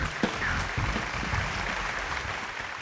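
A live audience at a televised 2004 MTV Style Awards gala applauds to welcome guest hosts, a soft, steady wash of clapping heard from a distance.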